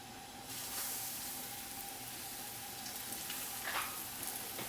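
Sweet potato bread sizzling and frying in a pan of warm oil, a steady close crackling hiss that starts abruptly as the food goes in and continues evenly throughout.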